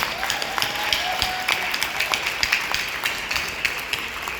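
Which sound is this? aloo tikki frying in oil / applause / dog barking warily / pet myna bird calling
applause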